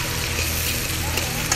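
Upo (bottle gourd) sautés in a pan for Filipino upong ginisa, making a continuous close sizzle with faint stirring scrapes over a low background hum.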